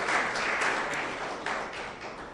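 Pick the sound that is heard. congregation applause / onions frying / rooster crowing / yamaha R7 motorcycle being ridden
congregation applause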